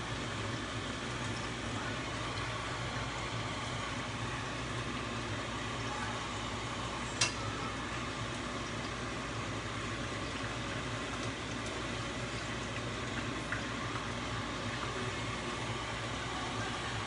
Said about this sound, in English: Throw in some more eggplant, right, Cynthia? Yep. Otherwise, we're never going to finish frying.